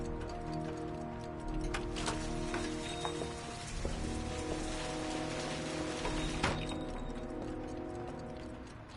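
Steady soft rain patters across a surface in the video game Heavy Rain, with occasional sharper drips and a faint low hum beneath the hiss.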